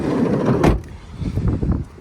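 A Renault Kangoo's sliding passenger door rolls and thuds shut once, close and loud, followed by softer low rumbles and handling noises.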